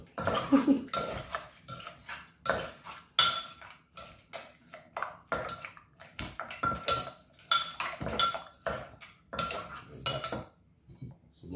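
A pestle pounds som tam papaya salad in a mortar, giving repeated uneven thuds and clacks mixed with clinking utensils. The sounds are close and fairly loud, arriving in irregular bursts with short gaps between them.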